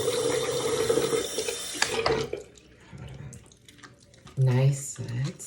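Water from a tap runs steadily at first, then thins into splashes and dripping as hands are washed with vegan soap. Someone speaks near the end.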